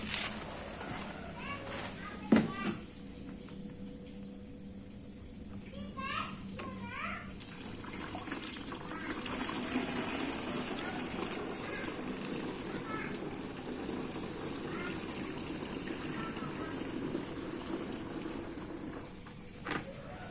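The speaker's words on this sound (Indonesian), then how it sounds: "tinggal kita penuhin airnya dan langsung lanjutkan penyemprotan" Water runs steadily into a pesticide sprayer tank outdoors in a chili field, a continuous filling rush lasting most of the stretch, with a few brief knocks early on and faint voices at the start.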